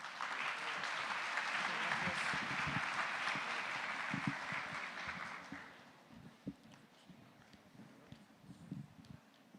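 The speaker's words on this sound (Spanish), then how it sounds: "Pido para el doctor Aranda un fuerte aplauso" Applause for a speaker at an international constitutional law congress, a dense burst of clapping that gradually thins out to scattered claps and quiet room noise.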